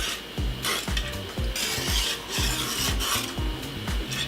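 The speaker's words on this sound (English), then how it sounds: "Make sure you whisk it good because you don't want any lumps" A whisk scrapes and rasps around a pot of thick haupia filling over low heat, in quick repeated strokes at a steady rhythm, close and fairly loud with no talking.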